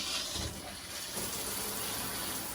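Water mixed with antifreeze gushes from an RV shower faucet during de-winterizing, a steady, moderately faint hiss of running water splashing into the shower.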